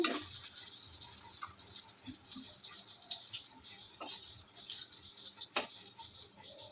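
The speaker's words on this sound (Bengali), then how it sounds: "আর আমি এর মধ্যে এখন দিয়ে দেব জল" Water is poured into a pot of cooking moong dal. The trickle and splash are quiet and close, with a few small knocks and drips and no talk.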